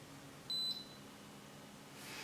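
An Instant Pot pressure cooker's timer gives one short, clear electronic beep while cooking green beans with bacon, then faint room hiss with no talking.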